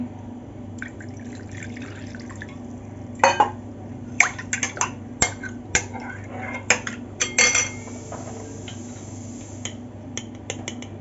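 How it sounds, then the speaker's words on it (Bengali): Water is poured over chicken pieces in a bowl for fried chicken, with trickling and dripping amid scattered sharp clinks of utensils against the bowl, close and fairly clear. "একটু জল দিয়ে দিচ্ছি"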